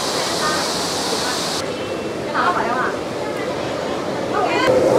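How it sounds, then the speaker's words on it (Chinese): A waterfall running low on water at Furong ancient town gives a steady, broad rushing roar throughout, with voices of tourists faintly mixed in. "在这个位置可以很好的去观赏这一个瀑布"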